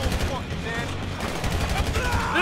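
Dense, rapid gunfire rattles continuously in GTA V, heavy bursts overlapping with a low rumble and clatter throughout.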